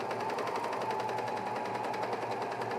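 A foot-pedal sewing machine stitching men's underwear, a steady close whirring hum with a fast rhythmic needle pulse running for the whole stretch, alone.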